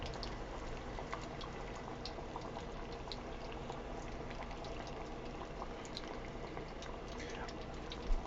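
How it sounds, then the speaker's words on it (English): Hot oil bubbling in a pan before frying pub food, a steady dense sizzling crackle with scattered pops, continuous and fairly close throughout. "test to see if it bubbles and it's ready"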